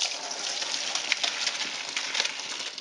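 Hot rendered grease from cooked pork chitlins poured off in a steady, gushing liquid stream, continuous and fairly close for the whole stretch, with no talking.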